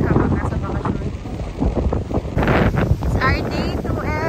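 Strong wind on Boracay beach buffets the microphone in loud, gusty rumbles, with surf and boat sounds faintly mixed in and a voice briefly audible.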